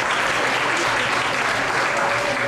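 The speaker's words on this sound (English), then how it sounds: "So give yourselves a round of applause." Audience at a New Brunswick regional competition gives a dense, sustained round of applause, steady and loud throughout without a break.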